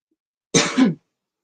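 A single short throaty cough, close and fairly loud, breaking an otherwise silent moment.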